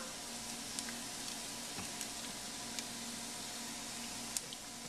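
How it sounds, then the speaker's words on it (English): Garlic and shallots sautéing in a pan, a steady soft sizzle with faint crackles and a few small pops throughout, moderately quiet and continuous with no talking. "Saute these up for about 3 minutes."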